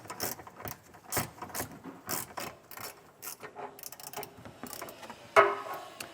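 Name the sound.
15mm socket ratchet loosening bolts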